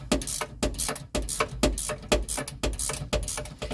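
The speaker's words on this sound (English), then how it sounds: "I'm just holding the top of that shock with this little wrench" Fast, steady ratcheting on a 1985 Mercedes 300CD rear shock while a small wrench holds the top of the shock, a close, loud run of rhythmic mechanical clicks repeating about every third of a second.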